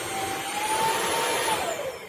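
A Bissell CrossWave OmniForce wet and dry vacuum cleaner runs at its lowest power setting, a steady, fairly soft whirring hum with a faint whine that drifts slightly in pitch, heard alone without talk.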